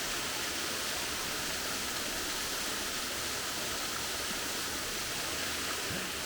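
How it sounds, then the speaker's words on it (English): A waterfall near Chennai rushes in a steady, dense roar of falling water, loud and unbroken throughout with no other sounds. "Look at that waterfall"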